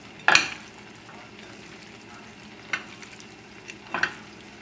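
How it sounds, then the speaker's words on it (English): Cajun-seasoned shrimps sautéing in olive oil, a low steady sizzle under a few sharp clanks and stirring scrapes in the pan, the loudest at the start, close by and without speech. "now we're going to saute the shrimps"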